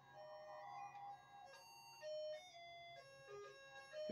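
A tinny electronic tune plays Pop Goes the Weasel from an alarm clock in short melodic phrases, quiet and steady, like a small device chiming a nursery melody.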